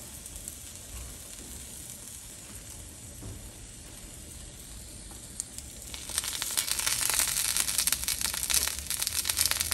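Leftover onion cooks in a pan during a budget home meal: a faint, steady sizzle that grows louder and crackles more densely partway through, with no voices.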